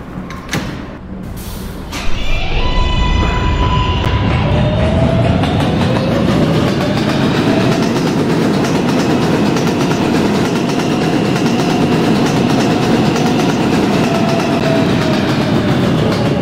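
An R143 subway car on the R line starts off, with a door chime and motor whine rising as it pulls out, then a loud steady roar of wheels on track close by, with no talk.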